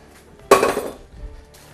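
A hot pot clanks loudly once and then rattles and rings down in a kitchen while squid-ink spaghetti is drained, followed by fainter handling noise.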